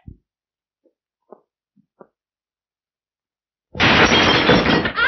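Sudden crash of glass shattering after a thrown horseshoe hits it, loud and bright, following a few faint knocks and a short quiet pause, with the breaking glass ringing out for about a second.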